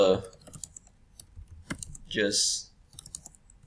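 Scattered computer keyboard keystrokes entering code during a programming lab, sparse and uneven, mixed with a few short bursts of other noise and quiet pauses.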